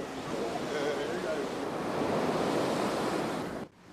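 Ocean surf on the Ivory Coast near fishing villages, a loud continuous wash of breaking waves with wind noise on the microphone, steady throughout before cutting off abruptly near the end.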